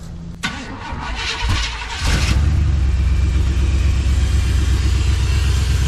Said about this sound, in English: Well, it starts up good. A little rough on the idle.